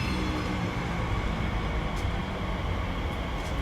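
A TfL Rail Class 345 train, unit 345057, rumbles steadily at Maidenhead station on the Great Western Main Line, a broad, continuous roar of wheels and motors without pause.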